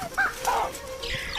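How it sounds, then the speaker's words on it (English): Mongooses give sharp chirping alarm calls in the wild, two or three quick high squeaks close by, followed by a fainter rustle and a thin whistling trail. "the baboons respond swiftly to their chirping alarm calls"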